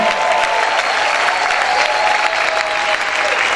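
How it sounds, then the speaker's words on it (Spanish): A church congregation claps hard and shouts, producing a loud, continuous roar of applause with voices and whoops mixed in, close and sustained throughout. "Grita y aplaude fuerte al Señor."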